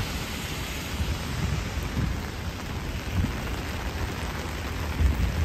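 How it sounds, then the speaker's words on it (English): Rain falls steadily on Midtown Manhattan streets in New York City during a thunderstorm, a soft even hiss with low rumbling city and thunder tones underneath, moderately faint and continuous. "The rain is again picking up"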